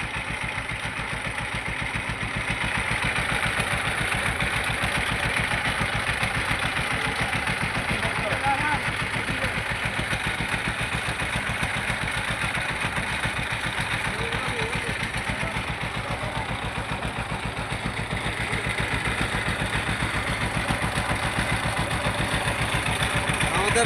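A motor boat engine chugging on the river at the confluence of three rivers in Chandpur, a steady, rapid mechanical pulse that continues unbroken and fairly close, with faint voices now and then.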